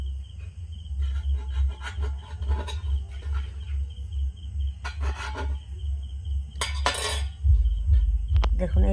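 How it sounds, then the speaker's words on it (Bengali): A knife slices through a piece of bread, giving soft scraping and crunching strokes in short bursts over a steady low hum, with faint clinks of cutlery nearby. "এই পাউরুটির পিসটা আমি ছুরি দিয়ে একটু কেটে নেব"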